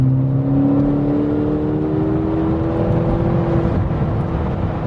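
Loud McLaren sports car engine droning steadily with a rising whine as it revs, close and continuous for several seconds with no talk.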